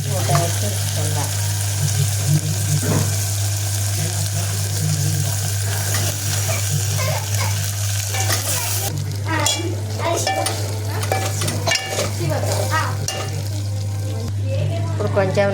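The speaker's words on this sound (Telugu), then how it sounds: "కొంచెం సేపు నూనెలో మగ్గాలి." Food fries in oil in a covered pan with a steady, close sizzle and occasional stirring and utensil clinks, with faint speech at times.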